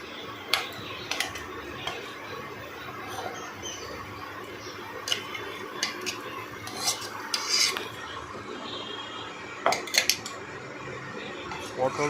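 A spoon scrapes and clatters against a pan as ground pointed gourd paste is stirred, giving irregular close clinks and scrapes over a steady background hum.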